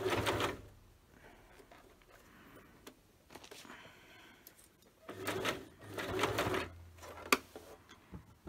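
A sewing machine stitches fabric for a basket, running in short bursts of rapid mechanical clatter with a brief backstitch and pauses between runs, close up and fairly loud.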